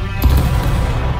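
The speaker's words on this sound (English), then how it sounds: "Okay, now I want the first line to shoot." A first line of soldiers fires a musket volley in the War of Rights video game: one loud, sharp burst near the start, followed by a rumbling tail that fades out slowly.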